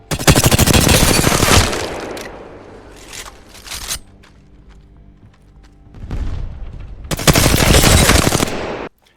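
R301 rifle firing in Apex Legends: loud rapid bursts of automatic gunfire in two long sustained volleys separated by a short gap with a few shots and mechanical clicks.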